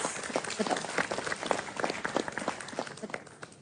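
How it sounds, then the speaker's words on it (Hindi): An audience claps for contestants on a sports competition reality show, producing a steady, dense patter of applause that runs throughout at moderate volume with no break. "सबके लिए दिल से तालियां भाई, सबके लिए।"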